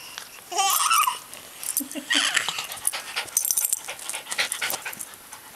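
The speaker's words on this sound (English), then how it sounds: "Where'd that dog go?" A dog pants and whimpers close by outdoors, mixed with babbling voices and a brief laugh around it.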